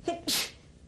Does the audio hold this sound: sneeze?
yes